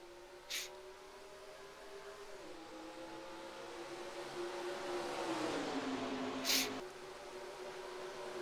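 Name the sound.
stock cars racing in video game NASCAR Racing 2003 at Chicagoland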